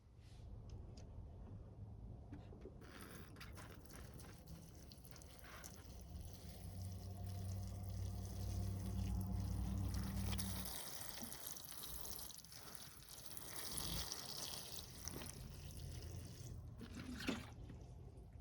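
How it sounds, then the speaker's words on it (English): Water poured over a freshly repotted yamadori bonsai tree, a steady splashing trickle into soil that runs for several seconds, then thins to scattered drips and light handling noise. "Let's get some water on this thing."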